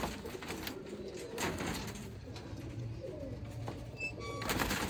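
Domestic golden pigeons, kept in pairs, give soft repeated low coos at close range against a quiet background, with no talking.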